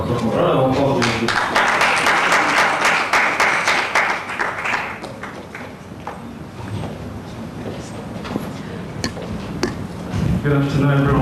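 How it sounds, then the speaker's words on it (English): A crowd at a Nigeria independence summit at Near East University claps for a pastor taking the stage, a loud full round of applause that swells early and then tapers into scattered claps. "Round of applause, please."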